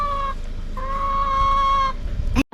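A Filipino farmyard chicken gives long, sustained, tonal calls in two close phrases, loud and near, ending in a sharp clatter with no talk.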